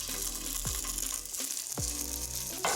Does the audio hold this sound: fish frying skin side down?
yes